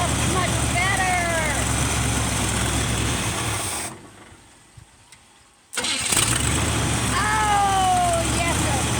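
A scooter fitted with a 454 engine runs in low gear with a loud, rough rumble. The engine drops out for about two seconds and then roars back. Voices talk over it.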